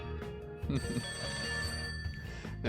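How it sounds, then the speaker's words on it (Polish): Telephone ringing in the video game Serial Cleaner, a steady electronic ring held through the whole stretch, fairly clear over a quiet game-music background with no talk. "telefon dzwoni i trzeba odebrać"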